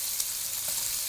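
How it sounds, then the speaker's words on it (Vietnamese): Meat stir-frying in a pan as bánh xèo filling, a continuous bright sizzle with a faint stir or scrape, close and steady with no talk. "Mình xào cho chín cái thịt này lại"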